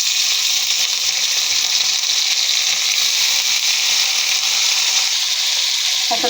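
Shrimp dropped into hot oil with fried chopped onion in a wok give off a loud, steady, hissing sizzle that holds evenly from start to finish.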